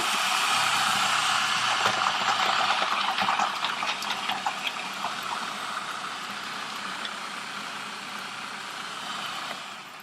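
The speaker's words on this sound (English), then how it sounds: "you saw how quickly it chopped up that garlic really beautifully, nice and fine" A Cuisinart Elemental 13 Cup food processor runs on high chopping garlic, a loud close whirring motor with rattling bits, easing slightly in tone as the garlic is chopped fine.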